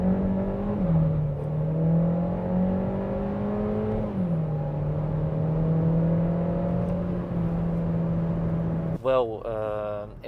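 A Skoda Karoq accelerating hard from 0 to 60, its engine droning loudly and climbing in pitch, then dropping twice as it shifts up, until a voice starts talking over it at the very end.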